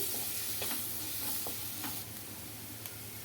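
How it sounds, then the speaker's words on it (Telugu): Chilli powder, coriander powder and garam masala frying in a pan, heard as a faint, even sizzle with a low steady hum and a few light spoon taps and scrapes. "ఇవన్నీ వేసుకొని బాగా ఫ్రై చేసుకోవాలి మసాలాలన్నీ"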